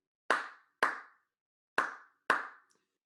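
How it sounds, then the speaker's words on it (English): Hands clapping together four times in a simple rhythm, two quick claps, a pause, then two more, crisp and close with silence between. "Clap your hands together."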